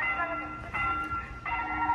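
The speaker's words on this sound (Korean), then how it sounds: "열차가 지나가나 봐요." A train rolls past near a railway level crossing in a seaside town, giving a steady, fairly close rumble with brief tonal squeals or horn-like tones, while someone talks over it.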